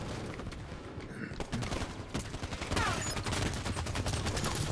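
Gunfire in a Halo 5 multiplayer match on Xbox One, dense bursts of rapid automatic shots and blasts layered over game sound, loud and continuous.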